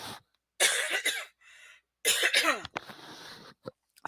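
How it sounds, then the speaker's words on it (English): Several harsh coughs in two clustered bursts, close and loud, separated by brief silences, with a short throat-clearing rasp trailing off at the end. "I do, however, have this cough that I thought had gone away"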